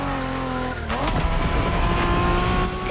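A Honda NSX in The Crew Motorfest revs hard with a high engine whine, and its tires squeal and skid loudly as it drives, close and continuous.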